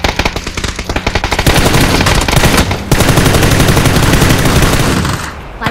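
Sustained automatic gunfire in the PUBG battle royale game, a dense rapid burst of shots running almost continuously for several seconds at close range, loud throughout with no speech.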